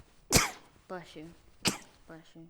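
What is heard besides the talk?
sneeze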